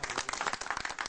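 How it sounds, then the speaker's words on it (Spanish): Audience applause at an event in Lota, Chile, a brief burst of distinct close handclaps at moderate volume. "démosle otro fuerte aplauso"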